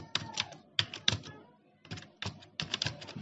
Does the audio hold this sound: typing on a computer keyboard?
yes